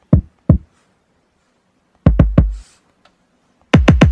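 Deep kick drum hits from the KORG Gadget app on an iPad, two single thumps, then a pair of quick punchy hits, then a rapid triple burst, each with a heavy low boom and short decay, separated by silence.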